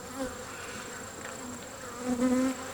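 Honeybees buzz steadily around an open hive during an inspection, a close, continuous drone with a few louder swells as agitated bees fly near.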